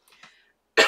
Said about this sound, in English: so it was like a cough and a sneeze.